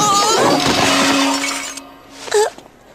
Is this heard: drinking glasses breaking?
yes